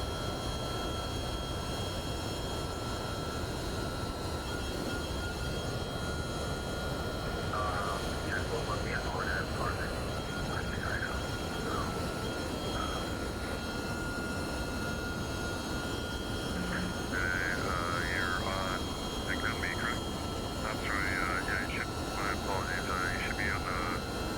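An MD-11 airliner in X-Plane 12 holds a steady, loud engine roar with a constant whine through the takeoff roll, while a radio voice talks over it.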